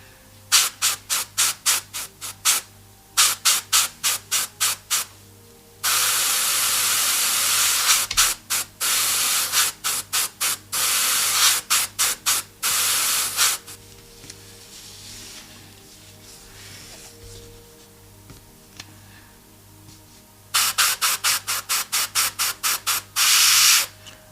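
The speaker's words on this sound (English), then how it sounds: "When I paint shadows in this way, I prefer doing a lot of thin layer with airbrush." An airbrush laying thin paint layers on a miniature: rapid rhythmic bursts of hissing spray alternating with longer continuous hissing passes, close and steady, with no talk.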